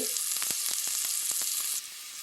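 Turmeric powder spluttering in hot oil in a pan, a bright continuous sizzle dotted with sharp pops and crackles, close and fairly loud, then dropping slightly quieter near the end, no voices.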